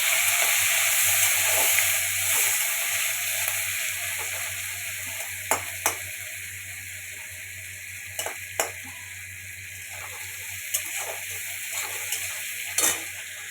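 Onion and tomato frying with whole cloves, cardamom and cinnamon in a pan for a rohu fish-head moong dal, a steady loud sizzle with a few sharp clicks of stirring utensils, no talk.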